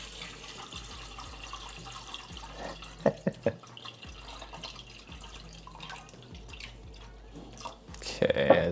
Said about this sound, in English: And we're just gonna add in some water.